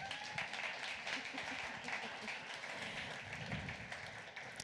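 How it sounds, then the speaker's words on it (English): An audience at an evening pub talk event applauds, a faint, distant wash of scattered clapping that holds steady for several seconds. "Another round of applause for Deanne."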